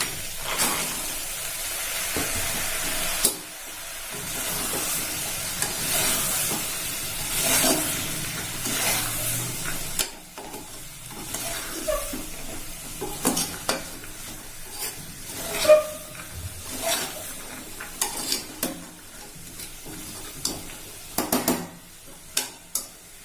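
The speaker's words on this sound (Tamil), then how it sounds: "இப்போ கொண்டக்கடலையும் பட்டாணியும் போட்டுக்கலாம்." Chickpeas and green peas stirred in a frying pan, a soft sizzle and hiss early on giving way to scattered scraping and knocks of a spoon against the pan, fairly quiet and intermittent.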